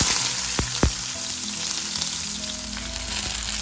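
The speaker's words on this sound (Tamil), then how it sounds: "எண்ணெய் சூடான உடனே கடுகு போட்டுக்கோங்க. கடுகு போட்டுன உடனே கொஞ்சம் சின்ன வெங்காயம்" Mustard seeds and small shallots sizzle steadily in hot coconut oil, with a couple of sharp pops early on over a constant close frying hiss.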